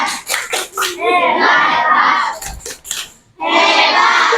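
Classroom group of children doing a rhythmic 'tepuk hebat' clap chant, sharp claps in a quick pattern mixed with shouted chanting voices, loud and close.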